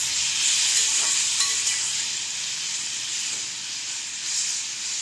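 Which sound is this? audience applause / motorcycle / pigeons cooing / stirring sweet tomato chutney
stirring sweet tomato chutney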